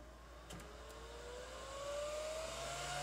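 A power supply's cooling fan ramps up under a load test. A faint whir rises gradually in pitch and loudness over a few seconds, with a couple of soft clicks near the start.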